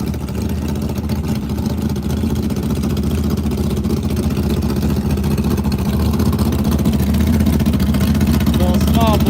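The Silver Bullet Jeep race car's supercharged small-block engine drones in a loud, steady idle with a deep, even rumble, under a voice talking at a race event.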